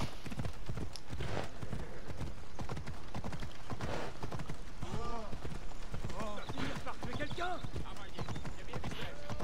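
Rhythmic hoof clopping from a horse at a steady pace in the video game Assassin's Creed Odyssey, with a voice talking over it throughout.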